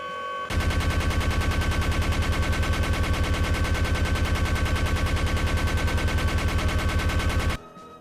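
The Natascha minigun in Team Fortress 2 spins up and fires a rapid, unbroken stream of loud shots for about seven seconds, then cuts off sharply, with no voices.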